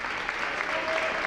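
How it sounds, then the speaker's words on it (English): A crowd in a gym gives an ovation at a girls high school basketball game, a dense, sustained wash of clapping that stays steady and loud throughout. "Ovation from the crowd"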